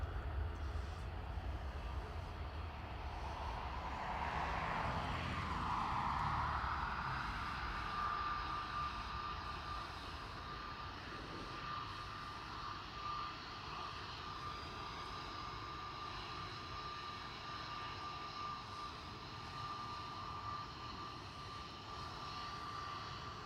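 An EgyptAir Airbus A320neo jet airliner at Dublin Airport, a distant steady engine roar that swells early and then holds as a long even drone with a thin whine running through it, no voices.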